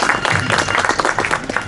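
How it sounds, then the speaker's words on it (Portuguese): An audience at a live Chula music gathering in Baião applauds: a dense, steady wash of many hands clapping at close range, filling the whole moment with a little crowd noise mixed in. "Parabéns, a salva de palmas para o Rubiro."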